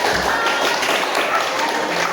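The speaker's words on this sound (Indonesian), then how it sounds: "Oke, kasih tepuk tangan dulu." A room of students and teachers at a school guidance-counselling session claps together, dense, even, sustained applause filling the space at close range for the whole stretch, without speech on top.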